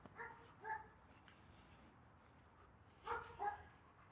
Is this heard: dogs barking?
yes